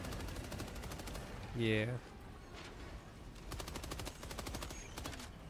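Rapid machine gun bursts rattle in Helldivers 2, coming as quick repeated volleys at moderate distance, mixed with game sounds while a person speaks briefly over the action.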